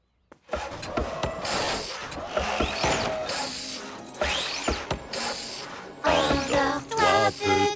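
Cartoon construction machines hammer and drill through a busy, loud run of rhythmic clanks, ratcheting whirs and rising mechanical squeals, with repeated bursts and sweeping tones and no talking.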